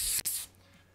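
An airbrush sprays white paint at full pressure onto a shirt, a loud hissing burst that cuts off briefly and then fades to a quiet background.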